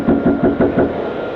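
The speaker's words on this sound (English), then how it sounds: "Then he knocks again." Five firm knocks on a house door in a quick steady rhythm, close and clear, with no talk.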